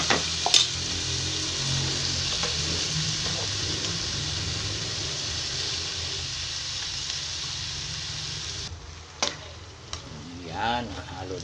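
Cabbage and corned beef fry and get stirred in a pan, a steady close broadband sizzle running most of the way with scraping stir sounds, easing into quieter clinks near the end.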